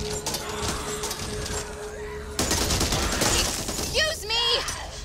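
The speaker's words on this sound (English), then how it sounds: "Molotov!" A Molotov cocktail smashing in the co-op zombie shooter Back 4 Blood, a bright glassy shatter amid gunfire bursts, with a character's voice calling out near the end.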